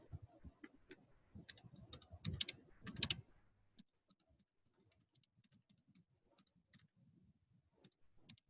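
Someone types a paragraph on a computer keyboard, producing quiet, close clicks of keys, first in a denser flurry and then in sparser, lighter taps.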